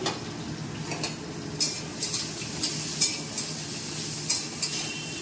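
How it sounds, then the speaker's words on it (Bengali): Steady sizzling of pointed gourd frying in a pan, with occasional stirring scrapes and clinks of a utensil against the pan. "আগে পটলটা আমি ভাজছি একটু লাল লাল করে ভাজবো পটলটা"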